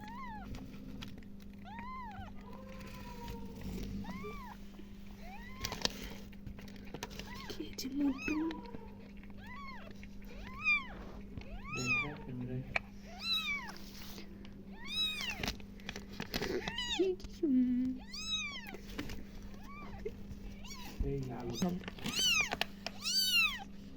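Several small, thin meows from nursing newborn kittens recur through the clip, soft and high-pitched, over a steady low hum with occasional quiet human sounds in the background.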